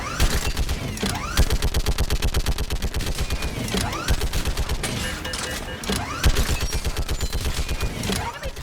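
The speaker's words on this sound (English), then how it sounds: "Keep firing!" Heavy automatic gunfire pounds through a battle in Mass Effect Legendary Edition, a fast, continuous rattle of loud close shots with weapon whooshes cutting through and shouted voices mixed in.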